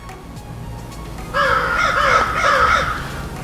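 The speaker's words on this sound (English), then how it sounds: "There's like some squawking and conversations that are going on in the background." Several crows caw repeatedly in the background, a run of harsh, overlapping calls that swell midway and carry over a steady indoor hum, fairly loud but not right next to the microphone.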